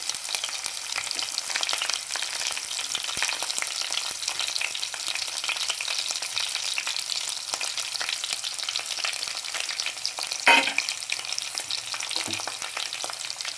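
Garlic cloves and green chillies fry in hot oil for an okra stew, giving a loud, steady, close sizzle that crackles continuously throughout with a brief stir near the end and no talking.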